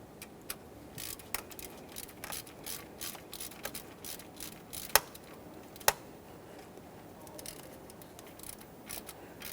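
Ratchet clicking as it snugs a stud into the upper intake plenum area of a 2011-2020 Toyota Sienna 3.5L V6, a close, steady run of quick pawl clicks with a couple of sharper ticks, no talking.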